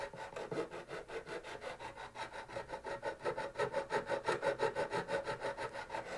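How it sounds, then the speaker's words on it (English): Uneven frets on a G&L Legacy guitar are leveled with a fret file, giving steady rhythmic rasping strokes back and forth at close range, growing slightly louder, with no talk. "you just put that dude on there, and you just start filing."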